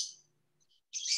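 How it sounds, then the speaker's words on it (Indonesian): Birds chirp in the early morning, two short bursts of bright, high tweeting at the start and end with near silence between. "puji Tuhan nih masih bisa dengar suara burung ya, pagi-pagi ya"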